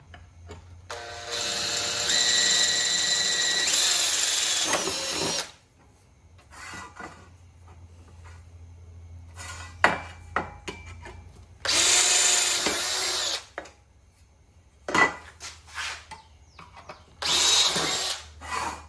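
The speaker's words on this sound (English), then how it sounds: "I'm going to get the trim piece on the top, those holes drilled and tapped" A drill bores holes in a trim piece for a Tormach sliding door in three separate whining bursts, close and fairly loud, with quiet handling clatter between them.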